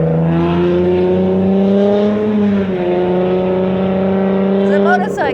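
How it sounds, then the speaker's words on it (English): A motorcycle passes on a city street, giving a loud, steady engine drone with a strong tonal hum that holds for several seconds, then fades into brief higher noises at the end. "It's a motorcycle because I'm outside in the city."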